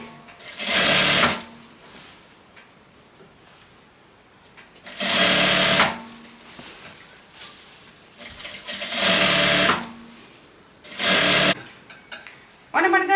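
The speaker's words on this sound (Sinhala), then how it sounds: "පුළුවන් සයිඩ් සීම් එක මම මේ අංශය තමයි මහගෙන යන්නේ" A sewing machine stitches the side seam of a frock in four loud, close bursts of rapid mechanical whirring. Quiet pauses separate the bursts while the fabric is repositioned.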